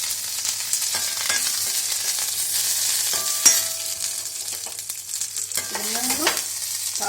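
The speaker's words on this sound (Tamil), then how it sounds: "இப்ப கடுகும் கருவேப்பிலையும் தாளிக்கும்" Mustard seeds, curry leaves and dried red chillies crackle and sizzle in hot ghee, with steady frying hiss, sporadic sharp pops and a few spoon scrapes against the small pan, close up with no talk.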